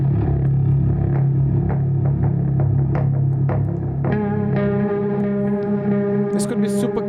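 A guitar motion element from the Appex trailer guitar library plugin: rhythmic, effects-heavy distorted guitar pulses that shift into a brighter sustained chord partway through, loud and alone.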